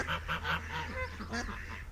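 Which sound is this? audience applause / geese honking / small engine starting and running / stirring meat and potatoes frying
geese honking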